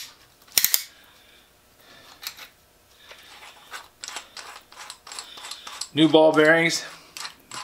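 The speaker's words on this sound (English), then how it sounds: "Chuck is opening and closing just like you'd want it to." A Pexto 8014 bit brace with a freshly nickel-plated, greased ratchet and new ball bearings clicks and ticks as its chuck is opened and closed, a close series of light metallic ratcheting bursts with brief speech before them.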